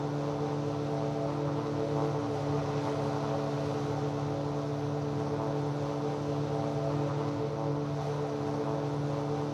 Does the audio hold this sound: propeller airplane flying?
yes